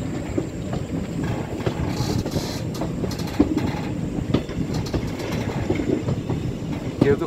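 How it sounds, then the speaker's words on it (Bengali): A train moves slowly around a curve through hills, a steady low rumble with soft irregular clatter of wheels on rails, heard close with no talk. "আর ট্রেনটা কার্ভ কীভাবে ঘুরে যাচ্ছে দেখুন।"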